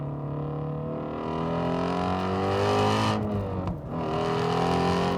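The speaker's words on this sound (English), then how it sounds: "I've never driven a car that sounds like this." Ford Shelby GT350R Mustang V8 engine heard from inside while driving, a loud sustained rasping howl that climbs in pitch, dips briefly as the throttle lifts, then rises again.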